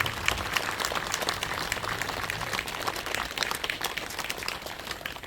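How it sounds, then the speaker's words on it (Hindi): A congregation applauds to open a Jubilee 2025 ceremony at Hamirpur Parish, with sustained, even clapping from a large crowd at moderate loudness that continues throughout. "आइए हम सब मिलकर ताली के गड़गड़ाहट के साथ इस उद्घाटन समारोह में प्रवेश करें।"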